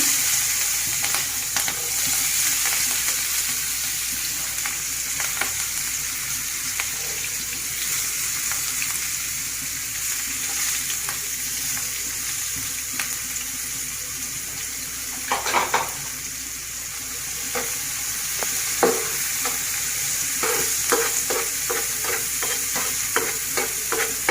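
Sliced onion and green chilli hiss and sizzle in the same pan just used for frying fish, a steady crackling bed with occasional stirring scrapes, no voices.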